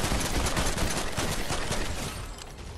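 Dense, continuous gunfire from a primal gun in the video game Fortnite, a loud sustained burst of rapid shots that stays heavy throughout and eases slightly near the end, with no talking.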